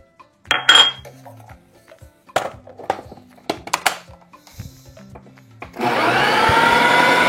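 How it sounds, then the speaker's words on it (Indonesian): Utensils clink and tap against a container, then a blender starts up and runs loudly and steadily, mixing chicken otak-otak batter with spring onion. "Lalu kita blender lagi."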